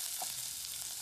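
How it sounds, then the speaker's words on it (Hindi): Chopped onion frying in hot oil in a kadhai with cumin and mustard seeds, a close, steady bright sizzle with a few soft crackles, heard alone. "प्याज को तब तक भूनेंगे जब तक ये गोल्डन ब्राउन ना हो जाए"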